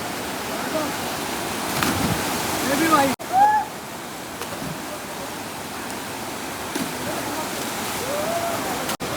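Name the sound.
water swirling in a waterfall pool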